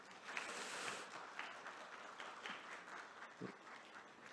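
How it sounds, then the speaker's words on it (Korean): A conference audience applauds to close the second lecture at an infectious disease management conference, faint, distant clapping that swells briefly early on and then thins to scattered claps. "박수로 두 번째 강의를 마치도록 하겠습니다"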